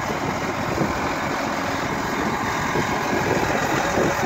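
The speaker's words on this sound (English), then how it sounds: "it's going to get loud by this motor" A Case IH 485 tractor engine idles nearby, a steady loud diesel rumble with an even low throb and no voices.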